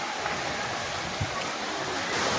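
A waterfall at Harishankar temple pours with a dense, steady hiss of falling water, close and unbroken, while a voice faintly speaks beneath the rush.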